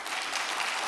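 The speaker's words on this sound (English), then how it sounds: "How about a little applause if you've ever been on the light rail?" An audience applauds at a live news talk event, a brief, dense wash of clapping that fills the room evenly.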